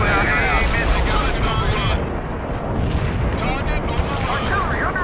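Heavy artillery barrage in the video game World in Conflict, a dense continuous rumble of distant booms and explosions rolling throughout, loud and sustained with radio-style voices talking over it.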